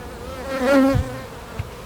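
A single honey bee buzzes close by at an open hive, its pitched drone rising and fading within a second over a low background hum, with a soft knock or two from handling.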